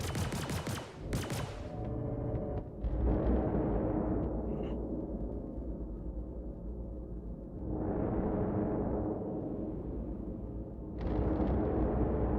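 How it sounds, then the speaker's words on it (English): A missile strike in a video game: a loud, sustained roaring explosion with rumbling, rapid gunfire-like crackle, a swelling whoosh midway and a final burst. "Oh, I got him with a missile."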